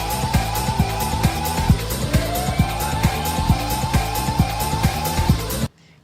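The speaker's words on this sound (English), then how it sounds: "I love that siren sample, how it's like, you start it and then it cuts off, and then just does the second half of it." A siren sample rises and wails repeatedly over pounding, steady drum hits and a busy electronic backing in the Sonic CD video game music, looping loudly before cutting off abruptly near the end.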